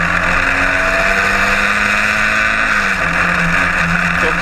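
Onboard engine of a historic Formula Ford race car lapping Brands Hatch, a loud, steady, droning roar with pitch rising and falling through gear changes, continuous throughout with no talk.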